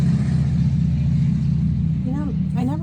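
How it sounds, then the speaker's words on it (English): Heavy road traffic rumbles continuously outside, a loud low engine drone from passing trucks, with a voice speaking over it near the end. "You know, I never realized how many loud trucks we have until I started doing these readings outside."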